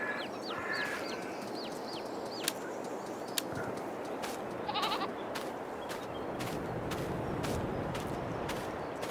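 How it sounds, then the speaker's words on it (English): Goats and sheep bleat repeatedly in the farm video game Farming Simulator 22, several short calls over steady farmyard ambience, with brief clicks and other game noises mixed in. "tripping over sheep and goats all over the place here"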